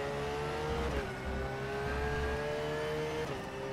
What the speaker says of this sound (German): Und ich liebe es, diesen Porsche so hochdrehen zu lassen.